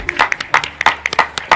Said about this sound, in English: The crowd clapped, but apparently the applause did not meet Michael Jackson standards.